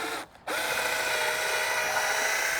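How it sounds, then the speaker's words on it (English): A power drill boring through wood whirs steadily at high speed after a brief pause, a continuous close mechanical whine with no talking. "just drill that hole right the way through."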